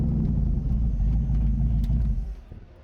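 A V8-swapped Toyota Corolla KE30 sits idling close by with a deep, rumbling engine note that holds steady for a couple of seconds, then fades out.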